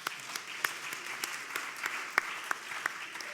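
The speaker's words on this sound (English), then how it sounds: "I think we deserve a round of applause for that." Conference audience applauds in a large hall, a fairly faint spread of clapping with a few sharper individual claps standing out near the microphone.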